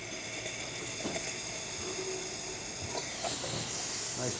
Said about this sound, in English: Check the steam here.